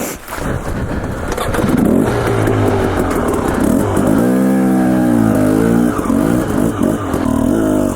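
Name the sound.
dirt bike engine revving while riding desert terrain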